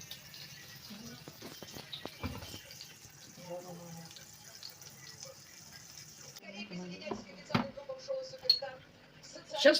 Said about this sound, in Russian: Сейчас наливаю чай.